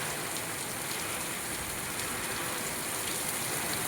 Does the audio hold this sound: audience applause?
no